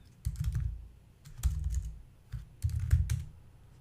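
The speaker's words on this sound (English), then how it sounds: "So I'm just going to type it," Fingers type on a computer keyboard in short, quiet bursts of rapid clicking with brief pauses between, close by and alone.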